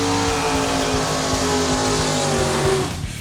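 A small-block drag racing car launches down the strip with a loud, rough, pulsing engine roar that holds steady for about three seconds before dropping off at the end.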